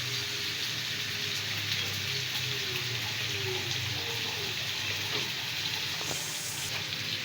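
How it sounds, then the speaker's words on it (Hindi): Onions sizzle steadily in a pan for fish biryani, a continuous broadband frying hiss at moderate level with a low background hum and no talking. "प्याज को अच्छी तरह से फ्राई करना है जब तक इनका पानी खुश्क ना हो जाए"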